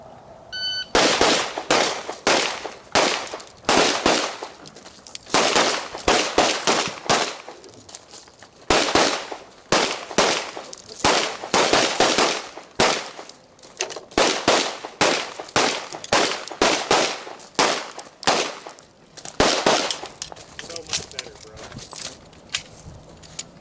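Pistols are fired on a shooting range course at Impact Shooting Center, with loud, close strings of rapid shots in repeated bursts and brief pauses between strings.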